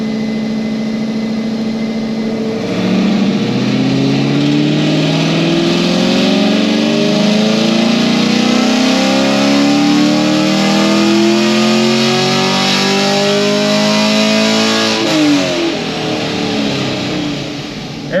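A 2022 Camaro fitted with a full cam package, headers and a flex fuel kit revs hard, its engine note climbing steadily for over ten seconds before dropping back, loud and close with no talk.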